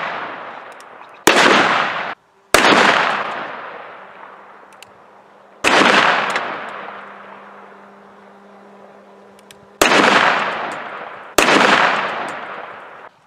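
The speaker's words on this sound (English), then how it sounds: "We're gonna see what a 44 Magnum does now." A .44 Magnum fires at a Grand Marquis car, five loud, sharp gunshots spaced a few seconds apart. Each shot is followed by a long ringing decay, with a faint steady hum between shots.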